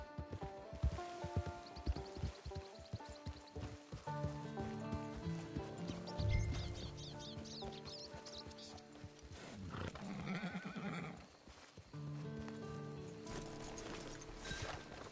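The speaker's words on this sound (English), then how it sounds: "Get your horse." In Red Dead Redemption 2, a horse clip-clops and whinnies near camp, mixed under a prominent orchestral game score that stays loud throughout.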